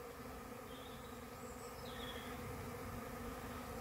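A swarm of bees around a hive, making a constant, dense buzzing hum that fills the air evenly, with single bees passing close by now and then.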